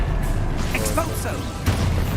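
Expulso blasting spell going off in Hogwarts Legacy, a loud booming burst with whooshing magical sweeps, a second heavy hit near the end, under a player's excited talk.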